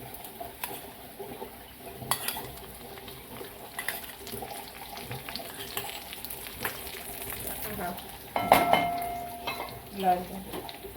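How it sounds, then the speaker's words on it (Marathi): Grated coconut, cashews and almonds roasting in ghee in a kadai while making traditional wheat lapsi, a soft sizzle with scattered stirring scrapes and clinks, a louder pan clatter near the end. "हे बघा खोबरं असं भाजलं का थोडंसं लाल झालं का आपण त्यामध्ये काजू बदाम टाकू अजून थोडंसं तूप टाकून"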